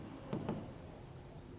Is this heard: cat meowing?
no